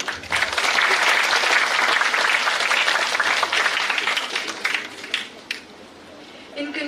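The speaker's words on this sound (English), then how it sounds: "I request the audience to give a big round of applause for him." Audience applause at a live organisational ceremony, a dense, loud burst of clapping from a crowd that holds steady before thinning out toward the end.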